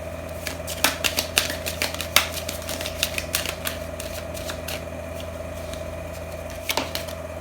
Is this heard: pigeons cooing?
no